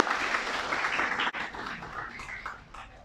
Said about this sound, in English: So why don't you give your teachers a big round of applause too